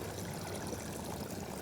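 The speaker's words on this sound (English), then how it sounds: "That's where the water's coming through." Water trickles through a farm gully that fallen leaves have nearly dammed after tornado storms, giving a faint, steady, unbroken wash of running water.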